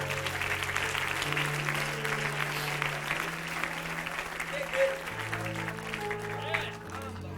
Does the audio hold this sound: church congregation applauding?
yes